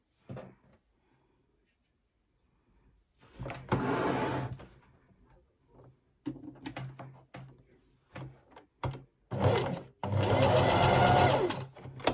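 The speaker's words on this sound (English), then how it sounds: "you're just going to sew down these 2 edges to create a band" Sewing machine stitching two fabric edges together into a band for pajama bottoms, with short bursts of loud, rapid needle clatter separated by quiet pauses and small handling noises.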